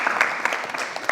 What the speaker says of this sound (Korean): 우리 박수 축복하겠습니다